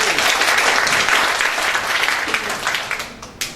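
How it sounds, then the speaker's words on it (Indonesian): An audience at an Indonesian professional launching event bursts into loud, dense applause that swells and then gradually thins into scattered claps. "Beri aplaus untuk kita semua."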